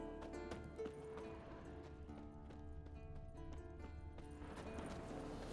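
Horse hooves clip-clop steadily at a walking pace in The Witcher 3: Wild Hunt, fairly close, with faint game ambience and no voices.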